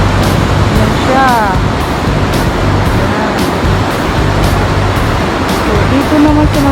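Large ocean waves roll in at the Cloud 9 surf break in General Luna, Siargao, a steady, loud wash of surf heard close by beneath someone talking.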